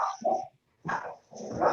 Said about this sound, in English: Dog's excited.